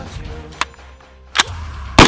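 Shots from a handgun ring out on a shooting range in Orlando: three sharp, loud reports spaced unevenly over about two seconds, each with a short ringing tail.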